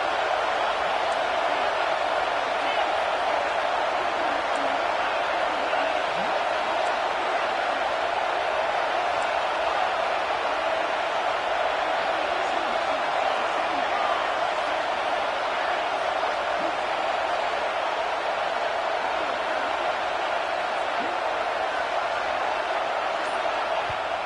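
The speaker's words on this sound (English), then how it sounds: "Here comes this home crowd as the defense tries to get off the field on 3rd down" Home crowd at a Kent State versus LSU football game, a steady, dense stadium roar holding at a constant level throughout, with no clear swells or breaks.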